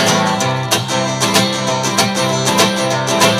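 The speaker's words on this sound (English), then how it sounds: "And then I'm doing a little bit of palm muting too." Acoustic guitar strummed in a steady rhythm with palm muting for a simplified song lesson, with dense chords and scratchy percussive string noise. The playing is close, continuous and alone, with no voice.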